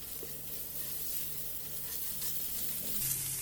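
Grated garlic and ginger paste fries in ghee in a pressure cooker with turmeric and red chili powder, giving a soft continuous sizzle with no voices.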